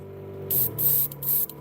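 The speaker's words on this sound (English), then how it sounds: "I'm practicing a little airbrushing." Short hissing bursts of an airbrush spraying, three or four puffs of fine, high-pitched air with brief pauses between them.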